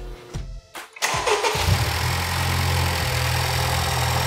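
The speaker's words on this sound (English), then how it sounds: "I always like to make sure we started before we put the bumper on" A Honda Civic Type R with its front bumper removed cranks briefly and fires up, settling into a steady, close idle.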